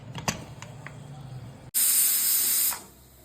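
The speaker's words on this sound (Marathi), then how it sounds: "आता कुकर लावून घेऊयात" A kitchen pressure cooker holding potatoes lets out a loud, close burst of hissing steam lasting about a second, after a few soft clicks and handling noises, then fades to low background.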